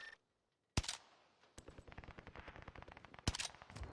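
Rapid gunfire in a first-person shooter video game, a loud sharp shot followed after a pause by a quick rattling burst of repeated shots and another sharp crack, with no talk over it.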